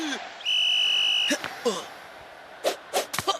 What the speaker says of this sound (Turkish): Hakem son düdüğü çaldı.